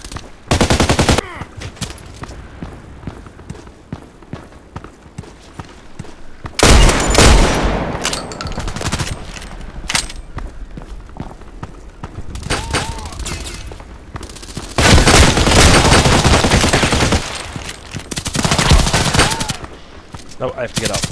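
Repeated bursts of gunfire in the video game Contract Wars, including a KAC PDW rifle and shotgun blasts, come in loud clusters separated by quieter gaps, with someone talking intermittently between and over the shots.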